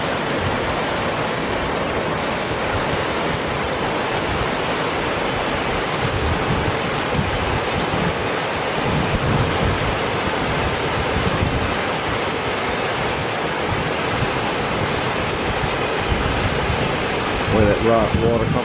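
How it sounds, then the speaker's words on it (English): Water pouring over rocks at the main falls of Jones Run in Shenandoah National Park, a steady, dense rushing roar that stays loud and unbroken throughout. "I'm pretty sure this is the main set of falls right here."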